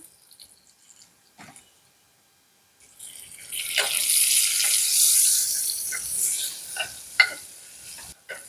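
Sliced onion and whole garam masala sizzle in hot oil and ghee in a pan, a steady hiss rising after a quiet start, with a few light clinks of a spoon.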